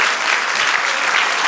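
A church congregation claps and cheers together in sustained, dense applause that fills the whole moment, loud and close, with scattered voices mixed into the crowd noise.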